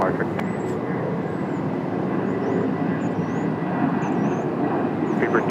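Jet airliner accelerating down runway 30 on takeoff: a loud, sustained broadband engine roar, steady throughout, with faint chirping birds above it.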